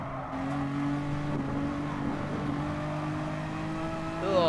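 Race car engine in the racing game Gran Turismo Sport holds a steady, droning note at a constant pitch, rising slightly at the end, with no talk over it.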